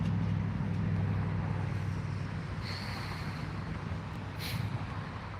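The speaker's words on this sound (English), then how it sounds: "It's a large uptick in traffic." Continuous low hum of morning rush-hour road traffic in Pittsburg, Kansas, engines droning steadily at a distance, with a brief higher whine passing through.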